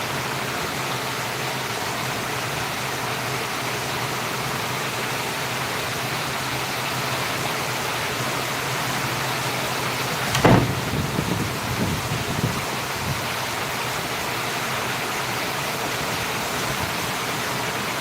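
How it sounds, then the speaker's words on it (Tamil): Heavy rain pours steadily and loudly throughout in Valliyur, India, a dense hiss with a brief rumble of thunder partway through. "வெளியே மழை பெய்கிறத மாடி வந்து பார்த்தேன்"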